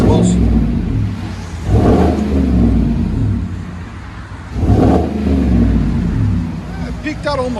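Loud, close revving from a Chevy Silverado 5.3L V8 fitted with a Flowmaster Flow FX exhaust: two distinct throttle blips swell into a deep rumble over a steady low drone.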